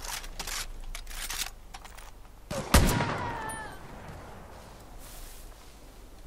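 A few sharp gunshot cracks in the video game Far Cry New Dawn, then one loud blast with a ringing, whistling tail that fades into quiet background noise.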